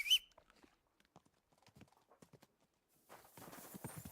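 Horse hooves clip-clop in the video game Kingdom Come: Deliverance II, a sharp tone first, then sparse light hoof taps growing into a denser run of steps near the end.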